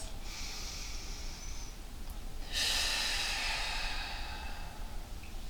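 Slow, deep breaths during a seated yoga twist: a long airy inhale, a short pause, then a louder, fuller exhale, close to the microphone with no talking.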